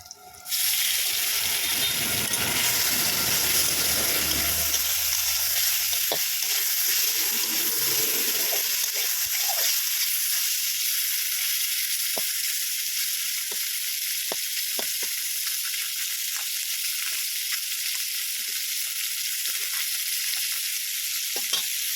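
Chang fish coated with salt and turmeric, with a few chillies, sizzling loudly in hot oil in a home kitchen, a dense crackling fry that persists throughout with occasional soft clinks of stirring.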